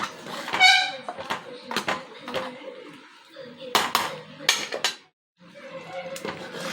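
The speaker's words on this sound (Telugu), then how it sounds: "ఇప్పుడు కట్ చేసి పెట్టుకున్న వెల్లుల్లి వేసుకోవాలి కలుపుకోవాలి" Chopped garlic tipped into a pot of Mysore red lentil dal and stirred, with clattering spoon-on-metal scrapes and knocks in irregular bursts, fairly close, with a brief silence near the end.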